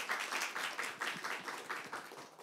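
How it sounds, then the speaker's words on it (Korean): An audience at a Korean youth culture festival applauds a film director after his talk, a dense burst of many hands clapping that gradually fades over a few seconds. "다시 한번 큰 박수 부탁드리겠습니다"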